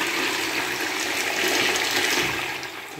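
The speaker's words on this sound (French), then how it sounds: "Chasse d'eau." A wall-hung toilet in a newly finished bathroom flushes with a strong, close rush of water that holds for about three seconds and eases slightly at the end.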